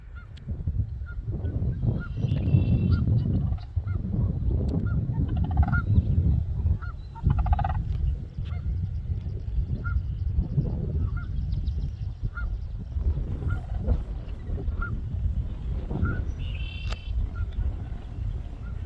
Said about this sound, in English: I can hear some cranes.